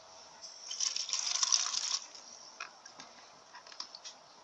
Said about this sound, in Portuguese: Aí eu vou botar só mais um pouquinho de água.